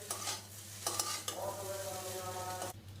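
Vegetable chow mein is stirred and tossed in a hot pan, soft scraping strokes over a steady sizzle, with a few louder clanks of the utensil against the pan.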